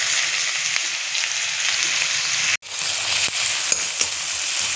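Chopped onion frying in hot oil with cumin seeds, a loud, steady sizzle that runs on with a brief break in the middle.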